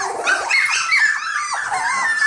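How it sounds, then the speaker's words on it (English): Several young cockapoo puppies, about six and a half weeks old, yip and whimper nearby in a quick run of high-pitched overlapping cries and short barks. "Come here, puppies."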